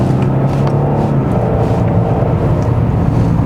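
Steady low engine and road drone inside a Genesis G80 3.5 Turbo AWD cruising a winding road in comfort mode, a constant muffled cabin hum with no voices.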